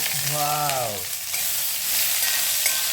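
Sliced onions with curry leaves frying in hot oil in a pan and being stirred, a steady, close sizzle that stays loud throughout.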